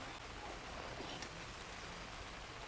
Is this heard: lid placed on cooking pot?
no